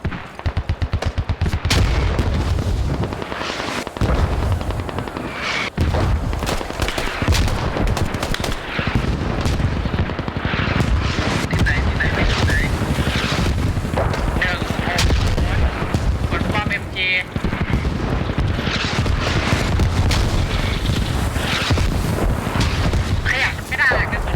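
Mortar fire in the video game Squad thumps out in repeated heavy booms and blasts, near and far, over a rumbling battlefield, with a player talking over much of it.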